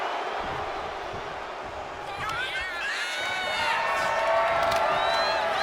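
A wrestling arena crowd in the WWE 2K25 video game cheers and whoops steadily at a Roman Reigns versus Mark Henry match, a dense continuous roar with rising shouts, under a commentator's voice.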